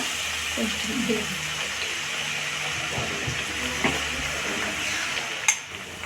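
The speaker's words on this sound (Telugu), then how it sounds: "ఎండుమిరపకాయలు 4 వేసుకున్నాము, ఆవాలు, ఎండుమిరపకాయలు, మనం కచ్చాపచ్చగా దంచుకున్న వెల్లుల్లి పేస్ట్ వేసుకుందామండి. వేగాలి బాగా." Dried red chillies, mustard seeds and coarsely pounded garlic paste frying in oil for an amla pickle give a steady, close hiss and sizzle, broken by a few soft stirring knocks and a brief voice.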